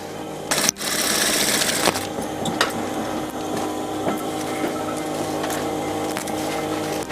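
A sewing machine stitching a back seam on a refashioned shrug hums steadily for several seconds at close range, with a few brief clicks and pauses near the start and no talk.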